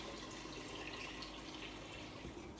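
Homemade kombucha liquid pours through a strainer in a steady, close splashing trickle that runs unbroken throughout, with no voices.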